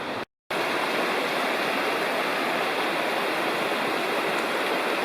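Paint Creek in the Cherokee National Forest flowing over rocks, a steady broadband rush of water, close and continuous apart from a brief dropout near the start, with no voices.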